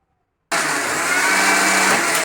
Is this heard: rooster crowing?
no